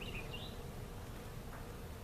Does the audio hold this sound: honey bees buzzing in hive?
yes